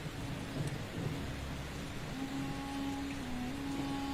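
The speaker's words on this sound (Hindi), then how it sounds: "एक घना और रहस्यमय जंगल था जहां मूसलाधार बारिश अनवरत बरस रही थी" Heavy rain pours steadily in a dense, foggy forest, a continuous loud hiss with a low rumble beneath it and a faint thin tone entering midway.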